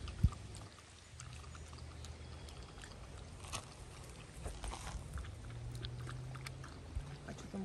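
A drink is poured into a cup during a family outing, making a soft, faint liquid trickle over a low, steady background rumble, with no voices present.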